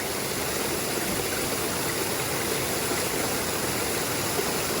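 Water splashes and rushes steadily into a bucket beside the Yuba River, a dense continuous wash of noise with no clear breaks and no talking.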